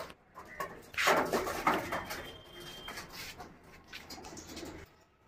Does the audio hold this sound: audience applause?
no